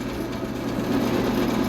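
A drill press runs with a steady motor whir, a continuous even hum that swells slightly partway through, close and fairly loud with no talk.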